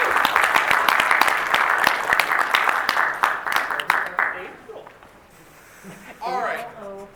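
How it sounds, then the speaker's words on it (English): Crowd applause at an improv comedy hour during a furry convention, loud steady clapping for about four seconds that thins and fades out, followed by a few scattered sounds and voices near the end. "Give a round of applause."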